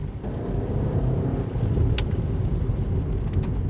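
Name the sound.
Suzuki Vitara 2026 electric motor driving, cornering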